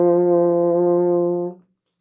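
A French horn sustains a single clear, steady brass note for about a second and a half, then stops cleanly, played alone with no talking.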